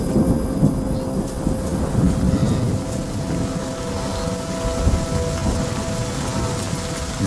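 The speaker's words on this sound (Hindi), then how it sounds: "बारिश के मौसम में गरज भरे तूफान लगभग रोज ही आते रहते हैं" Steady heavy rain pours down with low rumbling thunder rolling underneath, a dense continuous wash of sound with no voices.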